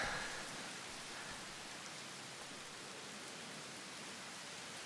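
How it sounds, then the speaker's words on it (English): Soft, even video game rain falls steadily as a faint hiss of drops, quiet and unbroken throughout, with no voices. "Look at the rain."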